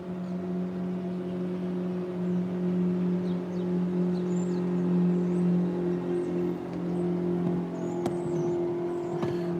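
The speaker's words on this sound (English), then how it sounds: "Comes that boat upriver again." A duck hunters' motorboat travels upriver, its engine droning steadily at a moderate distance for the whole stretch, with no talk over it.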